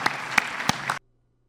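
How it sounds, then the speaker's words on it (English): A debate audience applauds, steady dense clapping with a few sharper claps for about a second before it cuts off abruptly to silence. "Can we give one more round of applause?"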